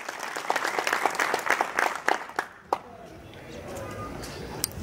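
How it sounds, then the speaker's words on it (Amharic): An audience at a gathering applauds: a dense run of claps that thins and fades after a few seconds, leaving room noise with some voices. "ከጎናችሁ ጋር ነን በሉና አጨብጭቡላቸው።"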